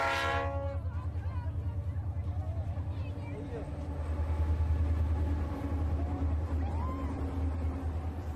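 A long iron ore train more than two kilometres long rumbles steadily past near Zouerat in the Sahara, a heavy low drone with a horn tone sounding at the start, continuous throughout.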